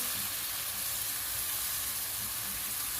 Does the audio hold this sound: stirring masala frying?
yes